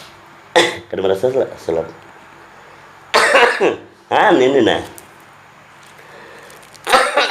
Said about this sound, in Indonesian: Nah, ini giliran batuk nih